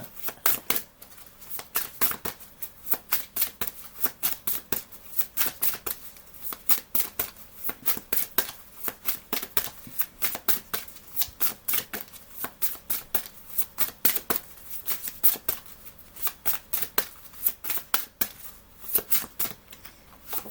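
A deck of tarot cards riffled and shuffled again and again, rapid crisp flutters in a steady rhythm, close and clear, no one speaking.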